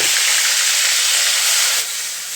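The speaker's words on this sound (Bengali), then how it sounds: "এখন তেলের ভিতর কালকের মশলা বাটা দিয়ে দেবো" Ground spice paste hits hot oil in a pan just used for frying potatoes, giving a loud, steady hissing sizzle that eases slightly toward the end.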